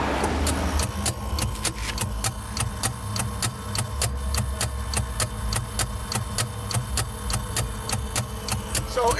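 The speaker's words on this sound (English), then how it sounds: "If you shove your camera in there, you might hear some of the clicking." Stepper unit clicking inside a coin-operated Urban Industries sex tester machine, a steady run of sharp, evenly spaced mechanical clicks over a low electrical hum, heard close up with no talking.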